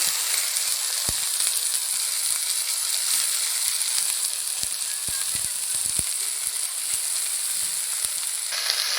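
Dhenki shak greens hitting hot oil with fried onion and green chilli, a loud steady sizzle and crackle that runs throughout, with a few sharp clicks of a spatula against the pan.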